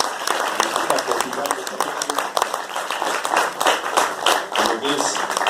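Audience applause at a cultural foundation's essay award ceremony, a steady dense patter of clapping filling the room, with voices mixed in underneath.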